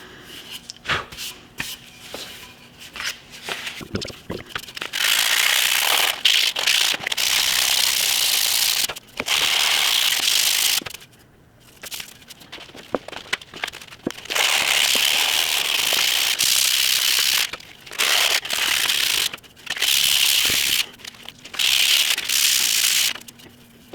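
A wooden Remington Model 31 shotgun stock is sanded by hand with 60 grit sandpaper, giving loud bursts of raspy scratching strokes separated by short pauses, with no talking.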